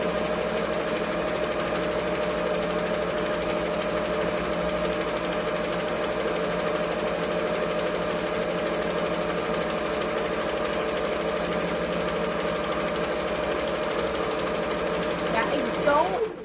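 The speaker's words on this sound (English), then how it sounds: "my sewing machine it's fast, but it's not that fast" A fast sewing machine stitching colorful printed fabric, a dense, continuous mechanical rattle held at a steady pace close by, cutting off right at the end.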